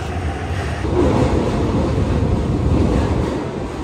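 The Skyliner airport express train pulls into a station in Japan with a broad, steady rumble and rushing whoosh that swells slightly and stays close and loud throughout.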